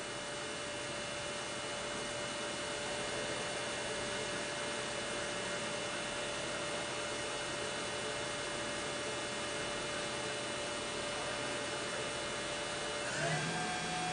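A MAQFER QP-1620 runs steadily at 8,000 RPM, giving off an even, continuous whirring hum with a constant tonal whine, with a brief shift near the end.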